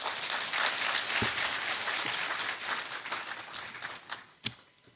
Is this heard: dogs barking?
no